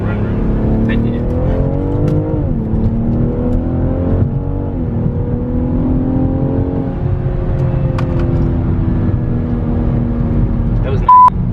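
Car engine accelerating hard from inside the cabin on an open road at the Atlanta Import Expo, a loud continuous drone whose pitch climbs and drops through gear shifts, with occasional voices underneath.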